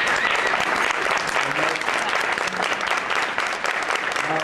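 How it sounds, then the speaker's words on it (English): Loud, dense audience applause for event organizers and committee members, sustained clapping from a large crowd close by, with faint voices mixed in. "Let's give them a round of applause."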